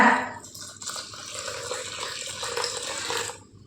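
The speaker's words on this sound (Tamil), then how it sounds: "அவளை ஒரு பாத்திரத்தில் சேர்த்து கொடுத்துட்டு அவள் முங்குற அளவுக்கு தண்ணி சேர்த்துக்கோங்க." Water poured into a vessel over poha (flattened rice) while making a Tamil breakfast dish, a steady splashing rush that lasts a few seconds and then tapers off, close by with no voices.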